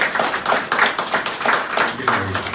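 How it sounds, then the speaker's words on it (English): Audience at a satsang gathering in St Croix, US Virgin Islands, clapping in a steady burst of applause throughout, fairly close and even in level, with some voices mixed in. "Give him a lovely round of applause."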